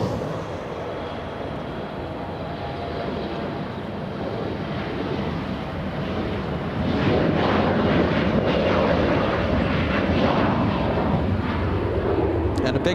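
A Boeing 787 Dreamliner at LAX gives a steady, broad jet-engine roar that swells noticeably louder about halfway through and then holds at that level.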